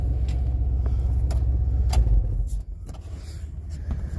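A Lincoln LSC car engine idles steadily with a low, continuous rumble close by, with a few faint clicks and knocks over the top and a slight dip in level partway through.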